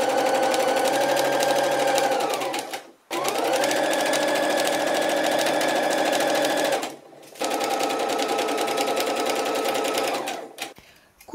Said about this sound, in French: puis on va coudre à 1 cm du bord